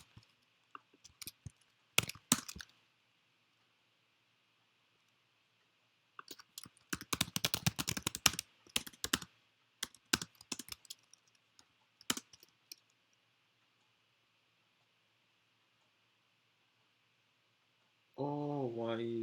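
R code typed on a computer keyboard in bursts of quick clicking key presses separated by pauses, close and fairly quiet, followed by a brief voice at the end.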